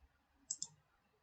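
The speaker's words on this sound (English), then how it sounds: "I'm just clicking the right mouse button" Two quick, faint clicks of a computer mouse's right button, close together, over a quiet room hum.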